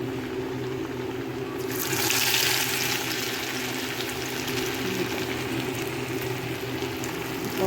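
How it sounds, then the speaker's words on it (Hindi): Besan dough balls go one by one into hot oil and fry, giving a steady, fairly loud hiss and sizzle that swells briefly early on and then holds even throughout. "ये सारी मैंने अब बॉल्स बना ली हैं, ऑयल भी हीट हो गया है। अब इसमें मैं एक एक करके डालूँगी।"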